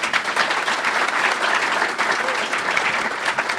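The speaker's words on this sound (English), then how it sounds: "Now a round of applause." A breakfast event audience breaks into sustained applause, a dense, even roar of many hands clapping that holds at steady volume throughout, with no voices standing out.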